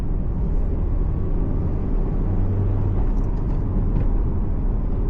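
Porsche sports car on the move, heard from inside as a steady engine drone and road rumble, constant and fairly loud, with no talking.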